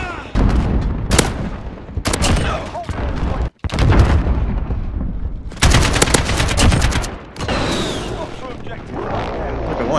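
Rapid AK rifle bursts in a first-person shooter game crackle in repeated volleys with brief pauses, loud and close, mixed with other gunfire and blasts while players talk over the shooting.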